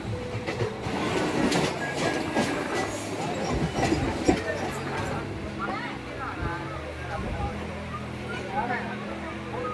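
A train rumbles past close by near Basin Bridge railway station with rattling wheels and clanking carriages, the rolling noise continuing steadily while people talk over it.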